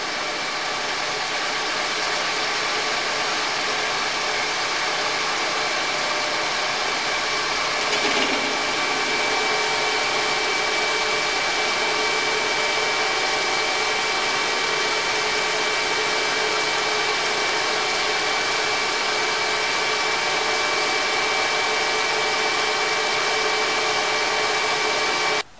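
A power tool cuts through a part for homemade coil-over shocks, giving a steady, loud, unbroken whine with a high tonal ring that holds for the whole span, with no talk.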